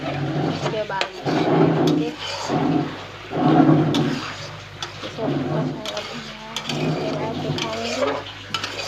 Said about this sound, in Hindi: देखिए, मसाला भून जा रहा है।